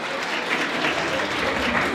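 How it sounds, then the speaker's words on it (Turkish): An audience applauds the winner of a regional food competition in Van, giving sustained, dense clapping from a crowd that stays steady and fairly close. "Bu kadar birinciye alkış"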